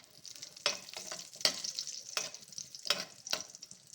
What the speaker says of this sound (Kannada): ಸ್ವಲ್ಪ ಫ್ರೈ ಆಗಲಿ ಇದು,